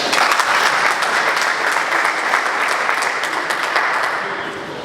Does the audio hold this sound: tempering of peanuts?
no